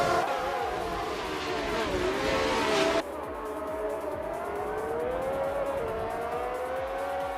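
Race cars, including a 1971 Alfa Romeo, launch off the grid at Algarve in a racing video game, a loud droning roar of engines rising in pitch with shifting whining tones, dropping abruptly partway through as the field pulls away.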